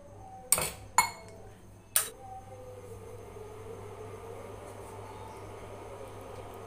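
A spoon stirring milk in a pan strikes the metal three times in quick, sharp clinks near the start, then gives way to a soft, steady background hiss.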